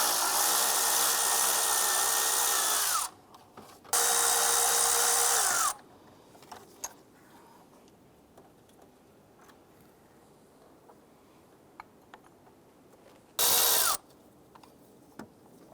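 A power tool removing water pump bolts on a 1995-2001 Ford Explorer engine: two long close bursts of whirring rattle, a later short burst, with quiet clicks and tool handling between.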